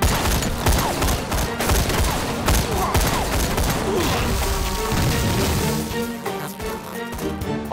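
Dense battle gunfire and crashing impacts from a war drama set in the western hills during the anti-Japanese war, with continuous loud volleys and bursts sustained throughout under a swelling score.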